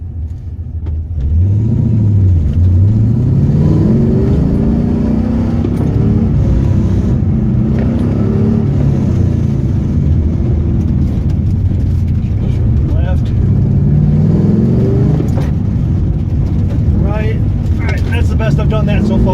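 A Pontiac GTO engine roars loud and close on an autocross course, rising and falling as it accelerates, brakes and accelerates again, with a driver talking over the steady rumble.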